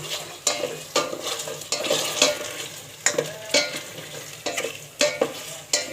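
Semai vermicelli frying in a pan as a spatula stirs it again and again, each scrape a brisk close rasp over a continuous soft sizzle, with no voices.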